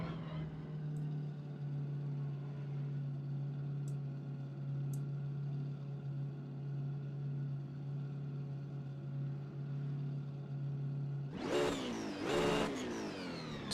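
Race car engine in a racing video game holds a loud steady drone for most of the stretch, then revs hard near the end, climbing sharply in pitch twice.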